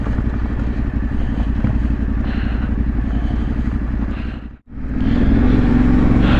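Motorcycle riding across the Scarhouse Reservoir dam wall in the Yorkshire Dales, engine rumbling steadily with a brief sharp dropout near the end before the ride noise returns at full level.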